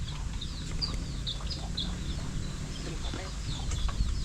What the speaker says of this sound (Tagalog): Daming sisiw. Puro sisiw.